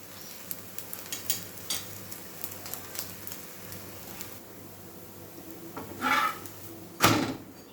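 Potato and egg dish simmering in a pan on the stove, with a soft, steady bubbling hiss and a couple of louder utensil or lid knocks near the end; no voices.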